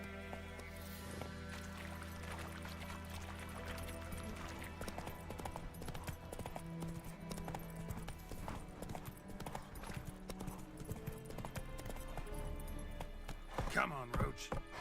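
Roach the horse galloping in The Witcher 3, a fast steady clip-clop of hooves running throughout, close and continuous, with a voice speaking briefly over it.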